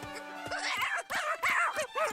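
A cartoon dog in a Chilly Willy episode gives a string of short, yelping barks and whiny cries in quick succession, close and fairly loud, with no talking.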